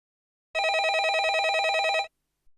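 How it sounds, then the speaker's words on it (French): A telephone rings once with a continuous warbling electronic trill lasting about a second and a half, loud and close, followed by silence and a faint click. "le téléphone sonne."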